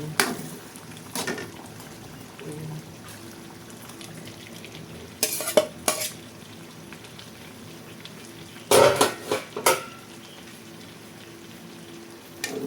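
Vegetables fry in a pan for beef kaldereta, giving a steady low sizzle broken by several loud clattering bursts as a utensil stirs and scrapes against the pan.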